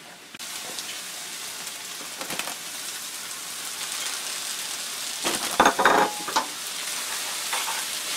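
Tofu and cashews sizzle steadily in a pan, with a close continuous frying hiss and a few louder clatters as the pieces are stirred, and no talking.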